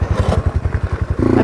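Dual-sport motorcycle thumping along a rutted dirt trail, its engine pulsing in a steady rapid beat up close, then rising into a louder, sustained rev near the end with clattering from the rough ground.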